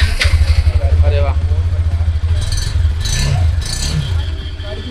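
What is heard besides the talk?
Bajaj Dominar 400cc motorcycle engine running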